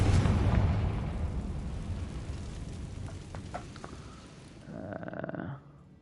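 A Confringo fire spell from the video game Hogwarts Legacy goes off with a loud, close blast at the start, followed by a fading rumble and a few short crackles and pops.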